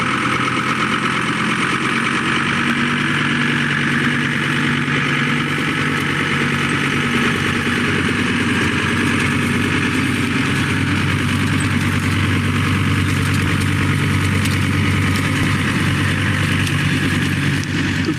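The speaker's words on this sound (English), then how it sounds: "we're going to start the tractor up and go so you can see the drill in action" A tractor engine runs steadily and loudly throughout while pulling a seed drill across corn ground without residue, a continuous droning rumble with no talk over it.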